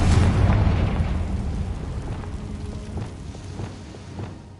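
A Confringo fire spell explodes in the Hogwarts Legacy video game, opening with a loud, dense blast that rumbles and slowly fades, followed by a few fainter magical thumps and tonal effects.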